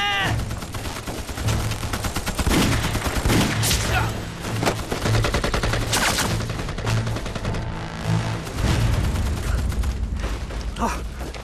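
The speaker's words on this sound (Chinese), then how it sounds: "鬼子炮楼里有机关枪" Rapid machine-gun fire from a Japanese blockhouse in an anti-Japanese war drama, dense continuous bursts of shots mixed with clattering mechanisms and a pulsing low rumble, loud and close throughout.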